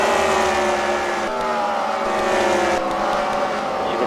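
Race cars roaring around a dirt oval at a fight-night event, multiple engines droning loudly together with rising and falling pitch as they jostle for position, continuous and close.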